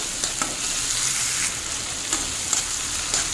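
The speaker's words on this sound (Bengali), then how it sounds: "চিংড়ি মাছগুলো পেঁয়াজ আদা রসুনের সঙ্গে একটু ভাজতে থাকবো" Steady loud sizzling of shrimp frying with onion, ginger and garlic in a pan, with a few soft stirring scrapes and taps, close up and continuous.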